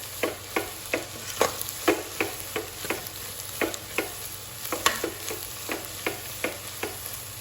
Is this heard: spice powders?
yes